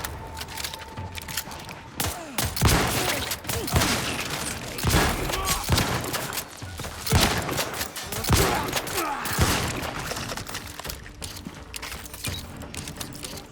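Repeated bursts of gunfire from The Outer Worlds 2 crack through a dense game soundscape, sharp shots arriving in irregular clusters over steady background noise, loud and close throughout.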